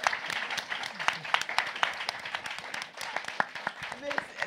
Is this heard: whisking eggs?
no